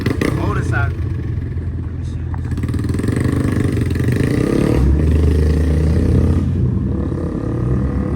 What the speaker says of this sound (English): That boy on the motorcycle.